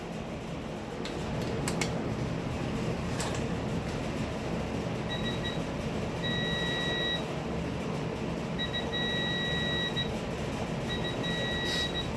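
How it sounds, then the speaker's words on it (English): Steady mechanical hum and whir, with a thin electronic beep from a torque wrench reaching 30 set torque, tightening during Toyota Venza 2.7L engine piston installation, starting partway through and sounding in several separate bursts. "it will start beeping once it hit 30"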